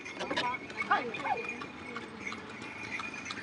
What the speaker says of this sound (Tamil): குதிரை வண்டியில் போகிறோம்.